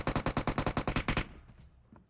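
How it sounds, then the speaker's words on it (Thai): A rapid automatic burst of about a dozen close gunshots from PUBG Mobile, evenly spaced and loud, cutting off after a second into a fading reverberant tail with a faint distant shot. "เพื่อนเราก็ยิงกันไม่หยุดอีกแล้ว"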